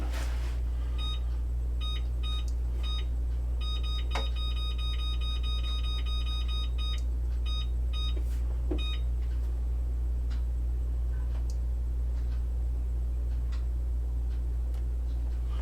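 A kitchen timer gives bursts of short, high electronic beeps while it is being set, with clicks and taps from handling the buttons. A steady low hum runs underneath and there is no speech.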